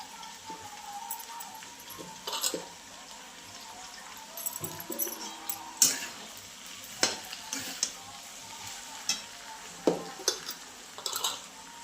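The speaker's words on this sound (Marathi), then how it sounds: "बटाटा शिजले चांगलं आता शाबू टाकून घेते" Sago is tipped into cooked potatoes in a pan and stirred, giving a soft, steady sizzle with scattered scraping and clinking taps of a spoon against the pan, fairly quiet and close.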